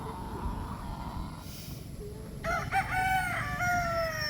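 A Boston Black rooster, an early-bird fowl, crows once loudly and close by, a long rising and falling call that starts midway and runs to the end over a low hiss.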